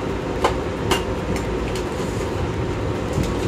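A train runs on rails, heard from on board as a continuous rumble with a few sharp clicks and clacks from the wheels, at moderate level and with no talk.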